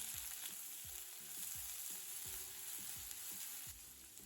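Steady sizzling of sliced onions, green chillies, curry leaves and cumin frying in hot oil for Bombay chutney, with repeated scraping stirs against the pan in a loose rhythm.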